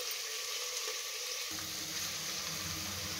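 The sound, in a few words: peas frying in a pan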